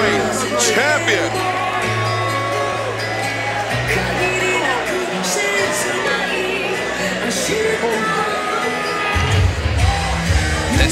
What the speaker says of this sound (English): This crowd is waiting for him to come through that curtain.